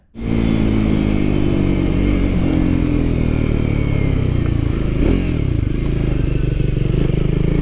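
A Triumph Scrambler 400 X motorcycle being ridden, its engine a loud steady drone with wind roar that starts abruptly and holds constant throughout, close to the rider.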